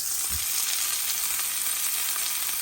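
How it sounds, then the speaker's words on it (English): Beef for stroganoff sizzles steadily in a hot frying pan as it finishes browning, a dense, close, continuous crackle with no voices. "once this is nicely browned, which it almost is there, I'm going to remove this beef to the plate"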